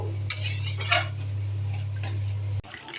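A metal lid clinks onto a cooking pot with a couple of light taps over a steady low hum, ending in a sharp settling clack, close and fairly quiet.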